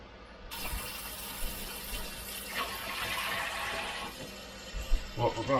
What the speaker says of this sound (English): We got to fill it up with water here.